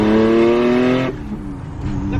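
A modified Nissan 370Z accelerates hard through the gears, its engine note climbing loudly and then dropping sharply at a quick shift before pulling again, close and dominant.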